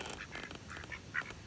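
A duck quacks near a river in a few short calls, moderately close, over a steady outdoor background of wind and water.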